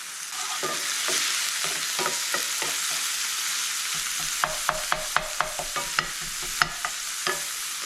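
Vegetables sizzle steadily in a hot pan, getting a little charred before homemade hash goes in; a constant frying hiss runs throughout, broken by crisp scraping taps of a utensil stirring, clustering toward the end.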